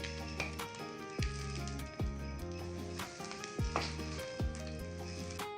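Onions, garlic, curry leaves and pepper sizzle softly in a pan for an omelette, with a steady frying hiss broken by several sharp metallic clinks of a utensil against the pan.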